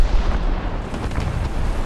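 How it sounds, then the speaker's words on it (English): Heavy boom of a Panther F tank cannon in the War Thunder video game, a dense low rumble that fills the short stretch without letup and then gradually tails off. "I'm just going to keep shooting"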